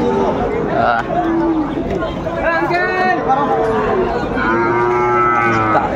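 Shahiwal bulls and other cattle moo at a crowded cattle market in Chandpur, several long, drawn-out lowing calls close by over a busy background, with people talking throughout.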